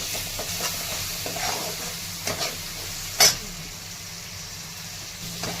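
Chili chutney and tomatoes sizzle and hiss steadily in a hot pan as a spatula stirs and scrapes them, with an occasional sharper clink.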